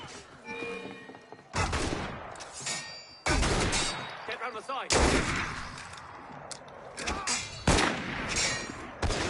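Gunfire and heavy impacts in the video game Assassin's Creed Unity, set in Paris, with several sharp loud shots and thuds breaking through a busy combat background and crowd noise.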